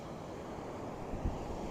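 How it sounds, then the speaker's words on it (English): Steady wind gusting at the shore, a broad rushing roar with low buffeting against the microphone and a faint surf wash underneath. "I hope it's not too windy."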